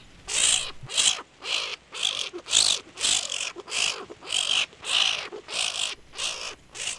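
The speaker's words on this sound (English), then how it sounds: "that is a striped skunk who is potentially fighting off a foe" Harsh, raspy hissing bursts from a striped skunk, about a dozen evenly spaced pulses roughly every half second, close and fairly loud with no talking.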